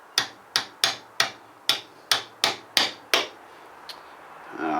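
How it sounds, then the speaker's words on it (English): A hammer taps metal junk to lengthen a bird sculpture's beak, nine sharp, evenly spaced ringing strikes up close, then a faint knock and a rising rustle. "I'm going to tap this down with the hammer"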